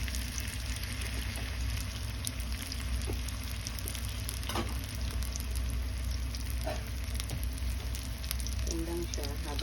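Banana and jackfruit spring rolls (turon) frying in hot oil in a pan, a steady close sizzle running throughout with small pops and bubbling crackles.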